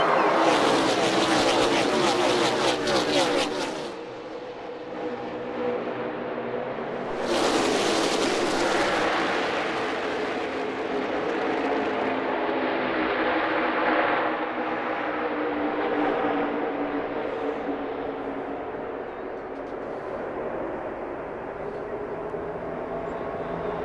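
NASCAR stock cars racing at Auto Club Speedway in Fontana, a roaring pack sweeping past with a loud surge, fading, then a second loud pass and a sustained distant drone of engines; faint commentary underneath.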